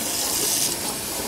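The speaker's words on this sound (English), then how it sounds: "you got to rinse your beans after you soak them" Soaked soybeans being rinsed under a running kitchen tap, a steady close hiss of water pouring into a sink with no pauses.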